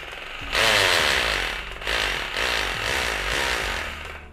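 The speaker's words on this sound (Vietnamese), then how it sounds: "đổi chức năng khoan bê tông." A 17mm electric rotary hammer runs in concrete drilling mode, a loud, steady, rough motor roar with a hammering buzz that starts abruptly and dips briefly before continuing.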